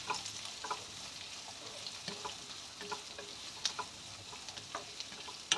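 Papaya, onion and green chili sautéing in a pan, a quiet continuous sizzle broken by irregular scraping and clicking stirs from a spatula, with no talking.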